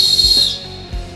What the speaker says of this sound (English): To use the Jet Scream whistle, simply place your mouth over the opening and blow with force.